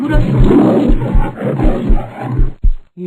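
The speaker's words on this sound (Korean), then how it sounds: "어느 틈에 나무 밑까지 쫓아온 호랑이가 으르렁거리며 물었습니다." Tiger growling as a children's story sound effect, a low rumbling snarl that swells and pulses for a few seconds before a short final grunt, loud and close.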